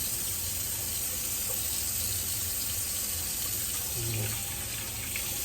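Steady running water from a faucet pours continuously during handwashing, a constant broadband rush with no talking.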